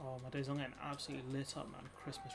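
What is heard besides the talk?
No distinct noise like a dog, phone or traffic.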